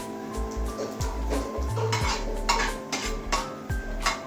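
Cumin seeds tipped into a hot pan at home, with a spoon stirring and scraping against metal and clinking dishes, close and busy, a faint sizzle underneath and low thumps throughout.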